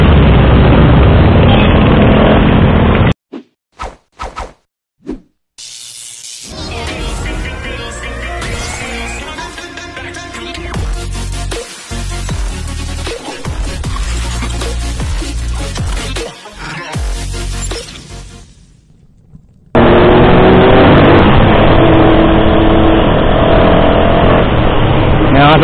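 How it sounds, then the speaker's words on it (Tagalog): A Suzuki Hayabusa motorcycle engine revs loudly and close by, the roar rising and falling in surges, set between stretches of music at the start and end. "Suzuki Hayabusa."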